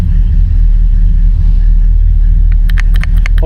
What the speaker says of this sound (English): As you see, she fires right up.